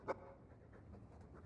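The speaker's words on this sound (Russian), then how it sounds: "Очень милый пес Хоук." A dog panting in the Dragon Age 2 video game, a short quick breath burst at the start followed by soft, faint panting breaths, close and alone with no talk.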